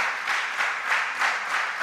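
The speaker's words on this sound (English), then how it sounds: "What do they deserve? A round of applause," Brief, moderately quiet applause for semi-finalist schools at a school quiz contest, clapping arriving in gentle rhythmic swells.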